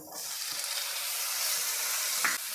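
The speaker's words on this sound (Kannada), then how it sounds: "ಈಗ ಫ್ರೈ ಆಗ್ತಿದೆ ಒಂದು ಕಾಲು ಸ್ಪೂನ್ ಆಗೋಷ್ಟು ಶುಂಠಿ ಬೆಳ್ಳಿ ಪೇಸ್ಟ್ ಹಾಕ್ಕೊಳ್ತಾ ಇದ್ದೀನಿ" Ginger garlic paste fries in a pan for an egg and beans omelette, giving a steady, close, even sizzle throughout with one faint clink near the end.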